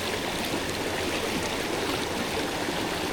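A mountain river cascade with a strong current, a dense and continuous rush of water, loud and close, with no voices.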